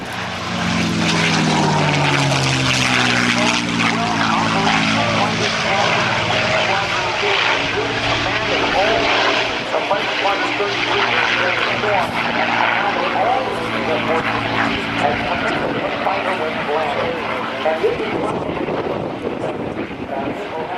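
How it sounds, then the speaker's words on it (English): A P-51 Mustang propeller fighter makes a low, fast pass at the 2008 NAS Oceana airshow, its engine drone loud and steady before fading, with wind buffeting and an announcer talking throughout. "Dale comes by low and fast in the Mustang"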